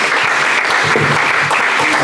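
A church congregation gives loud, dense, continuous applause, welcoming Pastor David to the stage, with faint cheering mixed into the clapping.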